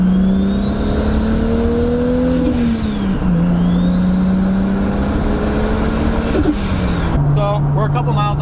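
Toyota MKIV Supra engine pulling on a freeway, a loud steady drone rising in pitch through gears with brief dips at shifts, over constant road and wind roar; a voice talks over it.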